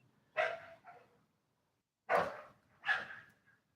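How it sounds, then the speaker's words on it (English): A dog barks in short bursts, two sharp barks, a pause, then two more, sounding somewhat distant. "Sorry, the background barking and stuff."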